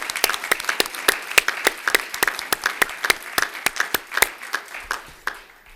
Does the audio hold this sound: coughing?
no